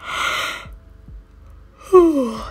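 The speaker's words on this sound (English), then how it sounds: "I need to yawn." A long, breathy yawn, then a short pause and a second yawn that turns into a voiced, falling groan. Close and fairly loud.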